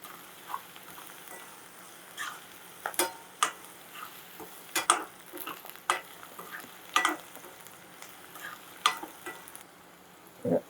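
Onions salted and frying in a pan for pakodi kura, a soft background sizzle punctuated by regular sharp clacks of a spatula stirring against the pan, close and unaccompanied by speech.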